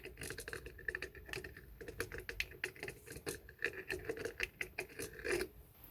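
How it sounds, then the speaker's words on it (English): A handheld blade-type deburring tool scraping around the inside of a copper boiler tube, producing quiet irregular clicking and rasping strokes close by with no talk. "I'll deburr the inside of that now with the deburring tool"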